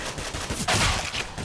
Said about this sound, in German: Jetzt schießt er wie ein normaler Mensch.